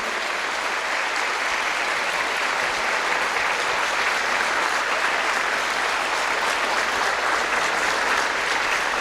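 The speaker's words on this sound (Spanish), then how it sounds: "los recibimos con un aplauso." A church congregation applauds steadily and loudly for nine seconds, a dense continuous wash of many hands clapping, with no pauses.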